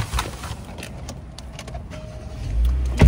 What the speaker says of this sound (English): I'm getting in the car